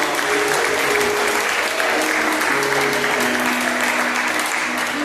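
Sustained applause from a large church congregation during a Wednesday service, steady and dense clapping throughout with no pauses.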